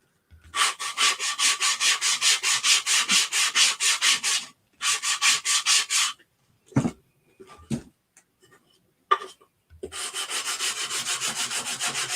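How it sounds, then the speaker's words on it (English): A wooden Christmas tree cutting board is sanded by hand in rhythmic rasping strokes, close and loud, in bursts separated by pauses with a few small knocks. "My sanding is such a workout."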